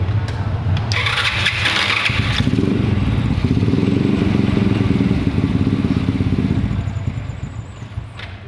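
A motorcycle engine cranks and catches while its carburetor is being tuned, then settles into a loud, close, rough idle that fades slightly toward the end.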